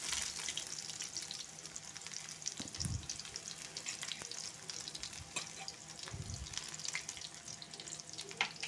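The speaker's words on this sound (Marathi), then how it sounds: "तेल गरम झालेलं आहे आणि आता मी त्याच्यामध्ये कांदा टाकते" Onion sizzles in hot oil in a kadhai, a steady close crackle and hiss throughout with a few soft thumps of stirring.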